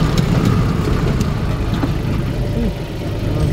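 Mitsubishi MT221 tractor, fresh from customs, with its diesel engine running at a steady, rough idle close by, a continuous low chugging drone with faint knocking.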